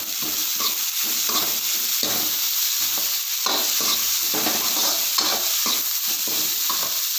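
Capsicum and cabbage stir-fry for restaurant-style chow mein, a loud, continuous hiss of a hot pan with rhythmic tossing and scraping strokes repeating about every half second.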